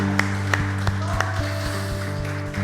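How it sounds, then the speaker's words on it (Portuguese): Church congregation clapping in unison at a Portuguese-language worship service, a steady rhythmic beat of hand claps over sustained music, fairly even and moderately loud throughout. "Você pode dar uma salva de palmas para Jesus?"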